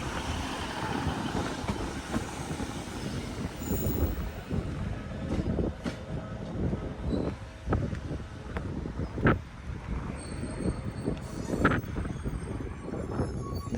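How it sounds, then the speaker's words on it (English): A boat train running to Heysham Port rumbles steadily throughout, with rail clatter, periodic sharp wheel clicks and heavy wind buffeting on the microphone, no speech. "This is probably not quite what you think of as a boat train, but that's exactly what it was."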